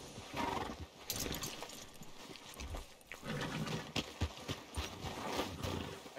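Horse sounds in the Red Dead Redemption 2 video game: irregular hoof clops and snorting, moderately close, over quiet outdoor ambience.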